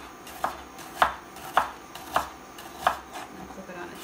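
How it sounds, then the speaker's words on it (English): A knife slicing through a tomato from root end to stem end on a cutting board, five crisp chopping taps spaced about half a second apart, close and distinct against a quiet kitchen background. "I'm going to cut from the root end to the stem end"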